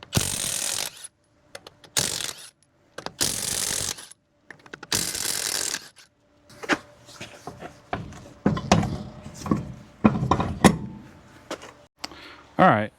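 Wheels bolted onto a Ford Galaxie, with loud bursts of ratcheting and impact tool noise in the first half, then clanks, clicks and metallic handling of parts mixed with some nearby voice.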